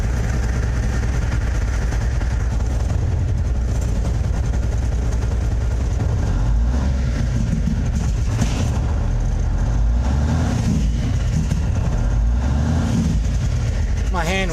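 A 444 truck with a Cummins engine and C Brake engine brake rumbles heavily at low pitch, the engine note rising and shifting through the middle, with people talking over it.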